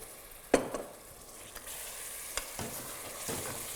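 Tomato puree frying in a pan for rajma gravy, a soft low sizzle with a sharp clatter near the start and a few faint stirring knocks, quiet and close.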